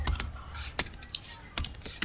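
Computer keyboard typing while names are entered into an Excel spreadsheet: irregular bursts of sharp, close clicks with short pauses between them, with no talking.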